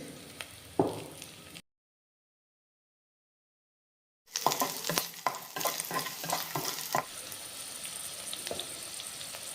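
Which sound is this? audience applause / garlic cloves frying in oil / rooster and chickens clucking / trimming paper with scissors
garlic cloves frying in oil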